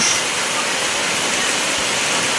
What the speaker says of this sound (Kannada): ನೋಡಿ ನಮ್ಮ ಚಿಕ್ಕ ತೋಡಿದ್ದು ನಮ್ಮ ಮನೆ ಹತ್ರ ಸರಿ ಎಷ್ಟು ನೀರು ಆಗ್ತಾ ಉಂಟ ಅಂತ